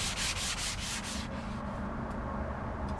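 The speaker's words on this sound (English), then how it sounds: "This is actually called a dual grit block. It has different textures on it. And I'm just going to go ahead and give it a rough sand." A dual grit sanding block rubbed roughly back and forth over a surface, rhythmic rasping strokes that are loud and close for about a second, then fade into a softer, steady scratchy rub.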